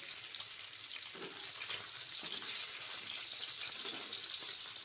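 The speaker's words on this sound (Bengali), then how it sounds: "মাছগুলা বেশ লাল লাল করে ভাজা হয়ে গেছে" Continuous close sizzling and hissing of rohu fish frying in hot oil until reddish, with a few faint low knocks underneath.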